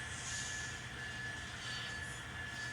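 An N scale model train backs up along its track, giving a steady, fairly quiet rolling rumble with a thin high squeal of wheels running continuously throughout.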